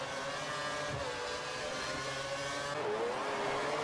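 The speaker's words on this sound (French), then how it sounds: "la McLaren de Little. Bon départ, reste bien dans sa trajectoire" An F1 race car in a racing video game, a McLaren launching at the start of the Spanish Grand Prix, its engine whining and rising steadily in pitch as it accelerates, loud and continuous, with no talking.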